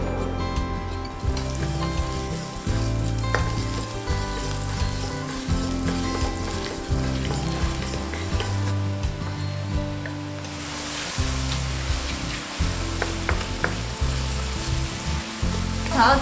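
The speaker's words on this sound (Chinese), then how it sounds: "我们先把杏鲍菇还有洋菇把它爆香，把它炒到整个是金黄色。" King oyster and button mushrooms fry in a pan with vegan butter or vegetable oil, a steady close sizzle running throughout, with occasional clinks and stirring knocks.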